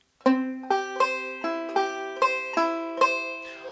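Banjo picks an in-the-mood roll, a quick rolling pattern of plucked notes, about eight bright attacks in a steady rhythm, clear and close.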